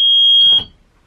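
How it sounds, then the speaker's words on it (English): A school bus emergency exit buzzer sounds a loud, steady electronic tone alone for about half a second, then cuts off abruptly, leaving a brief rumble. "I'm also going to check the emergency exits, make sure that the buzzer comes on."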